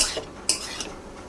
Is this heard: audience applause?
no